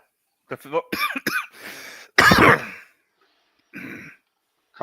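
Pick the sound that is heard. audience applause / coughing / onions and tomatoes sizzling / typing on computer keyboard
coughing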